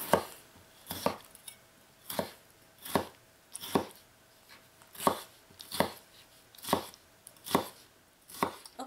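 A Damascus steel kitchen knife slicing through a tomato on a board, eleven evenly spaced crisp cuts about one per second, close and fairly quiet with no talking.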